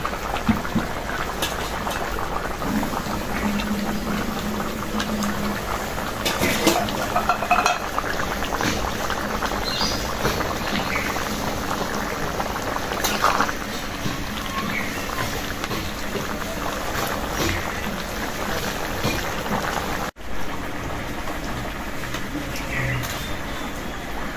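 Tengra fish cooking in a pot of boiling water in a village kitchen, a steady loud bubbling and hissing wash that continues throughout, with occasional utensil clatter and one brief dip partway through.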